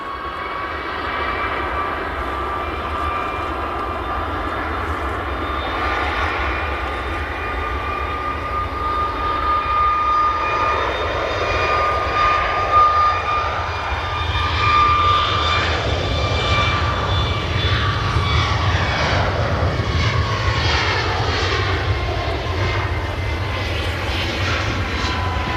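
An airliner departing Manchester Airport roars steadily for the whole stretch, a loud sustained jet engine rumble whose tonal whine slowly bends and shifts as the aircraft climbs away, with no talk over it.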